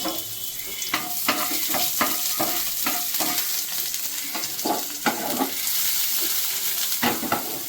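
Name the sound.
chopped garlic frying in fish oil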